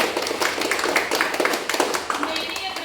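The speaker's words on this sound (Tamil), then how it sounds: "நம்ம ஹோம் சார்பாக கைத்தட்டி வரவேற்கிறோம்" Audience clapping in welcome at a home wedding anniversary celebration, a steady patter of hands with voices chattering underneath throughout.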